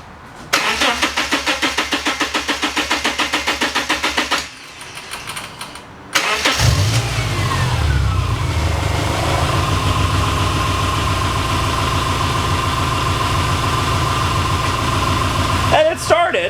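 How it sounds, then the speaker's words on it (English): A 2005 Subaru Legacy, just fitted with a new alternator and with a somewhat low battery, cranks rhythmically for several seconds, pauses, then cranks again, catches and settles into a steady idle up close. "Now you want to start your Subaru."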